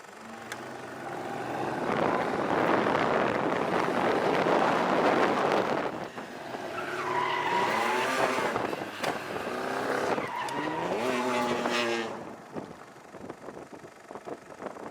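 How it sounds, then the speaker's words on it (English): An Aston Martin DB5 in a film car chase roars past with loud engine revving and rising, sliding tire squeals in repeated bursts, with wind buffeting throughout. "this has been really fun and exciting to be shooting another iconic car chase, and especially with the Aston Martin Db5"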